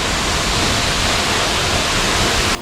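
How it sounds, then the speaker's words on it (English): The Mabi Waterfall in Kampung Sadir, a loud, close and constant broadband roar of falling water that cuts off abruptly near the end. "Reached the waterfall."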